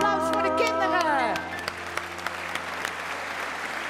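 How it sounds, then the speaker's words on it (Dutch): At a Frisian sports gala, a sung phrase trails off and the audience breaks into applause for the children, broad clapping with a few sharp individual claps standing out. "Applaus voor de kinderen."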